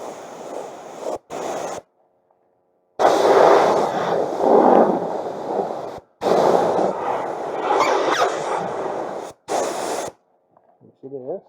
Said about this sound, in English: Okay, I got the compressed air ready. We're going to blow off as much of this peeling clear coat as possible.